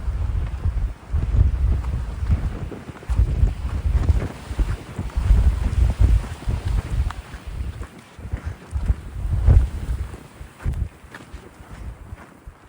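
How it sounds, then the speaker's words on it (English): Strong wind on the Continental Divide Trail near the Gila buffets the microphone in heavy, low rumbling gusts that rise and fall throughout, with a brief lull near the middle. "It's so windy."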